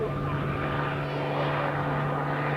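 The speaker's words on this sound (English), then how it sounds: "Flying the Oster AOP-9." Auster AOP.9 light observation aircraft flying at an RAF Halton airshow in 1986, its propeller engine giving a steady, continuous drone with a strong low hum throughout.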